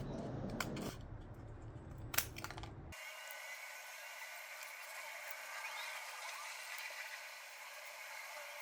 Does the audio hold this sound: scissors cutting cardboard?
yes